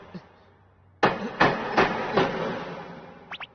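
A hammer strikes a shelf in four sharp, loud blows roughly every half second, each ringing briefly, followed by two quick lighter taps.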